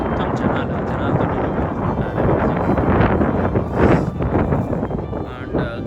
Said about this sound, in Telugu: అండ్ గాలి భయంకరంగా తోలుతుంది